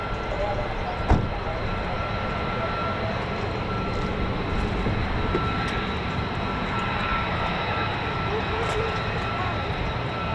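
A US Air Force F-35A fighter jet at RAF Lakenheath gives a loud, sustained engine roar that holds steady throughout, with a faint voice beneath it.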